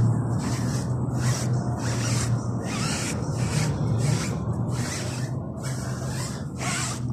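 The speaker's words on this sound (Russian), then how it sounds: "Губочку обычно берем, пыль просто стираем." A sponge wiping dust off a car tire before applying tire blackener: repeated rhythmic rubbing strokes, about a dozen short swishes in a steady back-and-forth pattern, close and alone.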